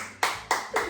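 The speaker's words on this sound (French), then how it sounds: "Applaudissez." A studio audience gives a few sharp, close claps in quick succession on a talk show, three distinct bursts within one second.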